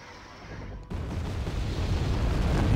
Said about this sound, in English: And here we do have explosions everywhere.